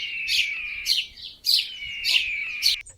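Small birds twitter in a forest as they flee a hunting kite, sounding as a run of bright, close chirping bursts repeated in quick succession with no talk over them.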